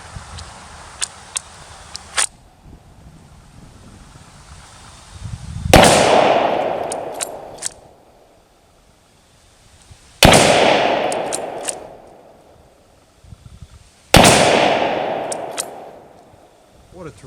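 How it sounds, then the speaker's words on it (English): A German Kar98K Mauser bolt-action rifle fires three loud, sharp shots a few seconds apart outdoors, each blast followed by a long decaying echo, with a few faint clicks before the first shot. "What a terrific rifle to shoot."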